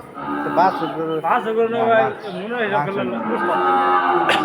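A cow moos repeatedly, loud and close, with long drawn-out lowing calls amid a busy crowd of animals and people at a cattle market.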